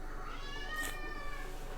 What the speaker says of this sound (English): Oh, no, it's the other cat singing.